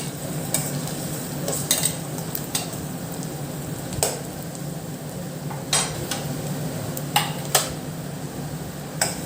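Garlic, about ten cloves, with onions sautéing in a pan for an anchovy curry, a steady soft sizzle under intermittent sharp metallic stirring and scraping clinks, no talking.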